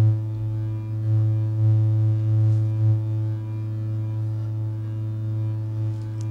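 A steady low drone from a Korg volca modular synthesizer hums continuously through reverb, with layered harmonic tones and a soft reverberant wash, no voices.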